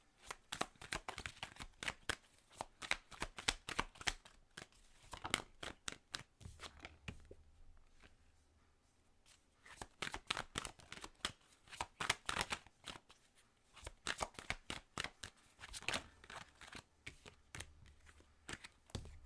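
Tarot cards are shuffled close up in repeated riffling bursts of rapid papery slaps, pausing briefly around the middle before starting again, with no talk.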